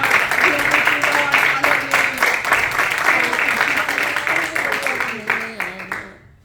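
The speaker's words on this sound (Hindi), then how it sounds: "उसके लिए जोर अपने पूरे दिल से, सारी जान, सारी ताकत से ताली बजाएंगे।" A Pakistani Punjabi-Urdu church congregation in San Jose claps in a steady rhythm alongside voices singing and calling out, ending in a fade.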